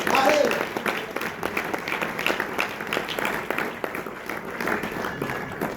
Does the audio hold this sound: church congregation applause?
yes